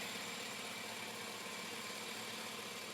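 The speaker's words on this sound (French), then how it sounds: "Là, le moteur est bien chaud." A warmed-up engine fitted with an HHO hydrogen kit idles steadily, a faint, even hum and hiss holding for three seconds with no talk over it.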